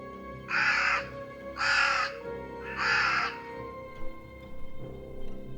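Three loud, harsh caws from a nearby crow, evenly spaced about a second apart, over a faint background hum.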